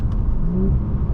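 Exhaust crackle from a 2020 Audi S4 3.0T Prestige on a manual-mode downshift, a steady loud engine rumble with a brief rising whine, heard from inside the cabin with no talk.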